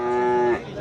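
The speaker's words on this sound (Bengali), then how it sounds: "দুই সাইডেই অনেকগুলা গরু" A single cow moos loud and close at a Gazipur cattle market beside the Jhinai riverbank, one sustained low call lasting about half a second before it cuts off, with no talk over it.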